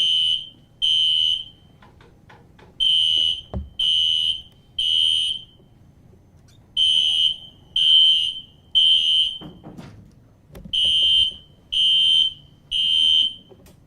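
A building fire alarm sounds a false alarm during a law enforcement presentation, with loud, shrill electronic bursts repeating in clusters separated by brief gaps, and faint room noise between them.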